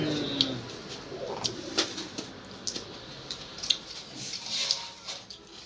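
Pigeons in a loft, soft low coos at a distance mixed with scattered clicks, wing flutters and small knocks, faint and irregular against a quiet background.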